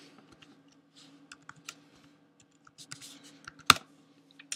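A password is typed on a computer keyboard, with quiet close key taps in short irregular bursts and one sharper, louder click near the end.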